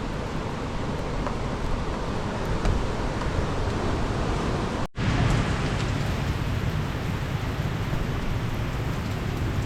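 Heavy rain at Tanah Lot temple in Bali pours steadily in a dense, hissing roar with no voices, unbroken apart from a momentary dropout halfway through.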